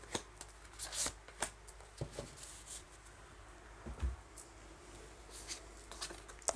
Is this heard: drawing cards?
yes